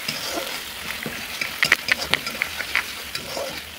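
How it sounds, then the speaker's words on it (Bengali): A spice paste of ginger, onion, garlic, dried chilli and cumin is stirred in a hot pan. A spoon scrapes and taps close by in short irregular strokes over a soft sizzle. "এবার একটু নাড়িয়ে নিচ্ছি।"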